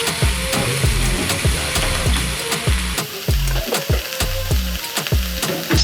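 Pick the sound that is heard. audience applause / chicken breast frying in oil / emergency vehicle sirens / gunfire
chicken breast frying in oil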